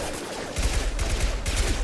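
Rapid gunfire in the video game Mass Effect 2, dense overlapping bursts that kick in loudly after a brief quieter moment and keep rattling without pause.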